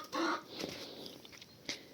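A single loud cluck from a chicken, followed by quieter scattered clucks and rustling at low volume.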